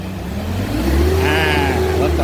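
A car engine with a throttle position sensor circuit fault (error codes E-23/E-31) revs up loudly nearby, its pitch rising briefly before holding at a higher steady roar.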